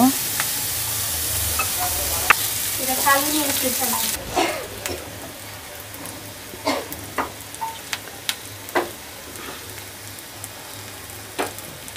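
Onions and green chillies sizzle in a frying pan, a loud hiss that drops away partway through, followed by scattered stirring clacks and scrapes against the pan.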